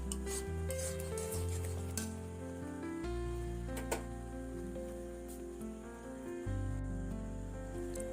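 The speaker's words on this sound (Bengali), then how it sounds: "যতক্ষণ না পর্যন্ত একটু গাঢ় টেক্সচার আসছে ততক্ষণ নাড়তেই থাকবেন।" A spoon scrapes and stirs a thickening milk-based mixture in a pan for an Eid dessert, with a soft continuous sizzle beneath steady, moderate scraping strokes and no talking.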